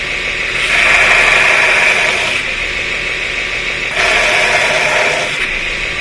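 A belt grinder runs at roughly half speed, a steady loud whirring hiss that swells twice as the workpiece is pressed against the belt, with no voices.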